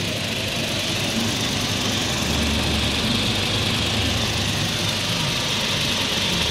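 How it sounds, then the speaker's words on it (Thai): A 2013 Toyota Ventury 2.7G van engine idles close by, an even, continuous rumble with no revving or changes in pitch, and no voices. "อย่างที่บอกครับเครื่องยนต์เดินนิ่งเงียบเรียบนะครับ"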